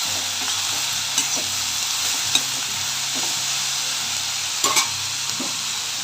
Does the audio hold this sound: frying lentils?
yes